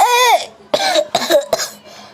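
A child coughs several times in quick succession, harsh and close, with short pauses between the bursts.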